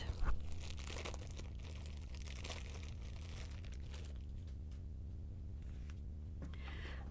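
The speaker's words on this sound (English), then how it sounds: "I guess I would have to snip this off, unless I can rip it" Thin plastic packaging on new clothing being torn and crinkled by hand, a close, continuous rustling crackle with a few sharper rips early on.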